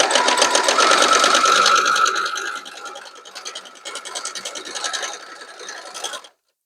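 Sewing machine stitching a quilt block, a steady rapid mechanical whir and needle chatter loud and close, running fast for two seconds then continuing at a slower, quieter pace before stopping.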